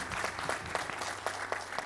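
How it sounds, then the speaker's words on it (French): Assembly audience clapping in sustained applause at an official gathering, dense overlapping hand claps with a few louder individual claps standing out, steady and fairly near throughout. "je voudrais tout simplement demander à cette assemblée d'applaudir ce grand homme"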